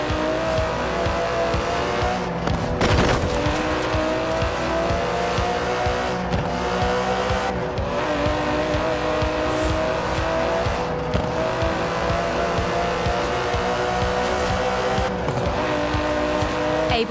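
Aston Martin DB11 with a 5.2-litre twin-turbo V12 driven in Forza Horizon 4, a steady loud engine roar with rising and falling revs and bursts of tire squeal, running continuously without talk.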